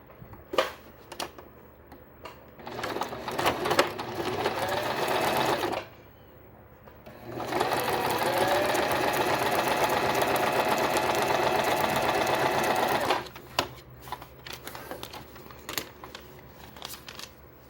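Domestic sewing machine stitching quilt block pieces, a steady loud mechanical whir running in two long bursts with a short pause between, plus handling clicks and fabric shuffling before and after.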